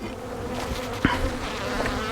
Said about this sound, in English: The bees were getting a little bit testy there at the end.